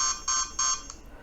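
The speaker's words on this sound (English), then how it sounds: "Yeah, it will make alarm." A security camera's built-in alarm sounds three sharp, high electronic buzzer bursts in quick succession, followed by a brief fourth blip, loud and close with no talking.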